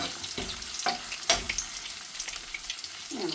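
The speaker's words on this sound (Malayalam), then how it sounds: "കുറച്ച് കറിവേപ്പില ഇട്ടേക്കാം. ഇപ്പം നല്ല ചൂടുള്ള എണ്ണ ആകുമ്പോൾ അതിലങ്ങനെ മുരിഞ്ഞ് വന്നത്" Curry leaves crackle and sizzle in hot oil for a beef roast, with a few sharp pops and a spattering hiss; close and steady, no talking.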